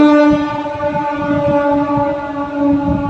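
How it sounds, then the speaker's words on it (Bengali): A train passes on a nearby railway line, its sustained horn-like tonal drone holding steady and loud over a rumbling low roar for the whole stretch, with no talk. "সরি আমাদের পাশের ট্রেন লাইন তো, তাই ট্রেনের আওয়াজ হলো।"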